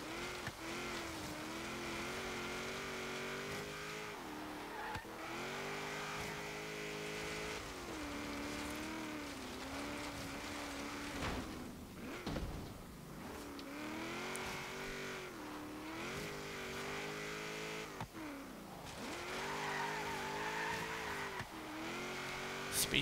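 A 2007 Toyota Hilux Arctic Trucks AT38 pushes around an autocross lap, its engine note steady and loud throughout, rising and falling through gear changes and corners, with a brief tire-scrub break near the middle.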